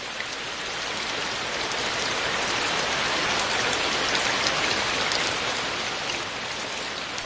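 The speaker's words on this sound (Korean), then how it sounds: "고즈넉한 천년 고찰에 담장을 적시는 빗소리가" Steady rain pours down on the walls of Magoksa, an ancient Korean temple in Gongju, a dense, even hiss of drops striking hard surfaces close by, with no voices.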